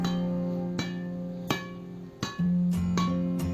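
A handful of crisp string pings from a badminton racket being tapped, spaced unevenly, each ringing briefly with a high, twangy tone at close range.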